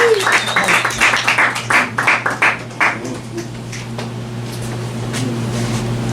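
An audience at a collaborative community night in Flint applauds with scattered, uneven clapping that thins out after a few seconds, leaving room hum and faint voices behind.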